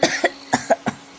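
An animated cartoon character coughs in a quick series of about five short, dry, voiced hacks, close and fairly loud, with no other sound around them.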